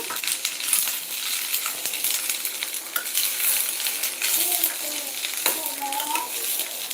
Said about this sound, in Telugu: ఈ విధంగా ఆయిల్లో వీటిని బాగా ఫ్రై చేసుకోవాలి